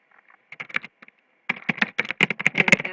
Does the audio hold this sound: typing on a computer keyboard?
yes